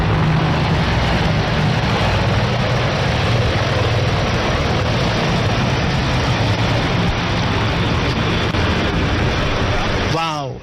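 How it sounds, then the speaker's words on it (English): Loud, continuous roar of three Apache helicopters passing overhead past a saluting dais, a dense rumbling wash that holds steady before cutting off abruptly at the end. "The sound of the rotor blades as the 3 Apache helicopters are now crossing the saluting dais."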